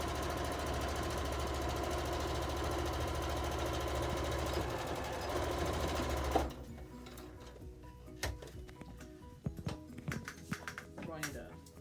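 A sewing machine runs steadily and fairly close while stitching the side seam of a fabric transport bag, then stops partway through, leaving a few scattered clicks and handling taps.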